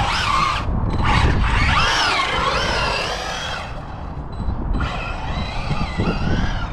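Maverick Quantum RX Flux 4S 1/8-scale 4WD RC rally car being driven, its electric motor whining and rising and falling in pitch with throttle, fairly loud and close, with a short lull before it winds up again.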